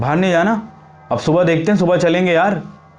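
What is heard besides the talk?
None of the usual background noises is heard.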